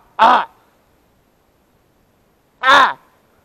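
Two loud, harsh crow caws ring out about two seconds apart in otherwise near silence on an open-country hunt after boar, hare, roe deer and fox.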